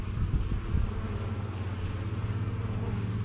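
Dense, close buzzing drone of many honeybees swarming around an open beehive during an inspection, steady and continuous with light wind noise.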